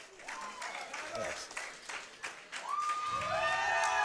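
A pro wrestling crowd at a Shoot Pro Wrestling show cheering and clapping through mini matches, a steady roar with whistles and shouts rising near the end, while commentators talk over it.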